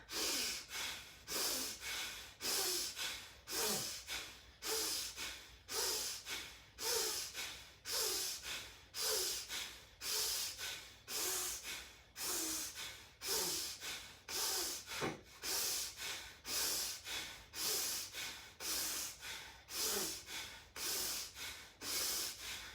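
Slow, deep yoga breathing fills the space, with long inhales and exhales alternating in a steady rhythm, about one full breath every second or so, close and alone with no talk.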